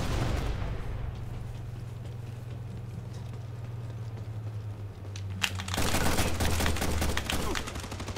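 Gunfire in a Ghost Recon Future Soldier multiplayer match: loud bursts and rapid fusillades of shots, dense at the start and again near the end, with a sharp single crack in between.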